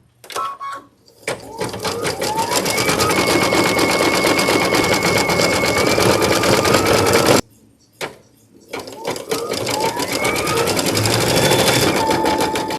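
An embroidery machine stitches freestanding lace in white thread with a loud, fast, steady mechanical whir. It stops briefly near the middle, gives a short burst, then restarts and runs on.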